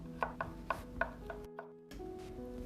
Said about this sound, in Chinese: 最后切一些蘑菇片、